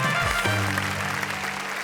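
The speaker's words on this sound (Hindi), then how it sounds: "लखन, संदेश और आतिश के लिए एक बार जोरदार तालियां हो।" Audience applause on a Hindi television comedy and music show, a dense continuous wash of clapping with a sustained musical tone underneath.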